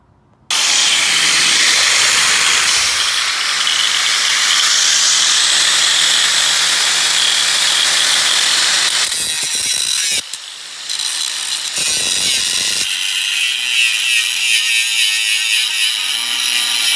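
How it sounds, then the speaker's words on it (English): An angle grinder cuts through steel flat bar, a loud continuous high-pitched whine after an abrupt start, with brief dips and restarts partway through as the cut is adjusted. "I'm going to start cutting with the grinder."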